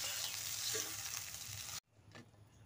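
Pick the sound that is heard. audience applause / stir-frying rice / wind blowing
stir-frying rice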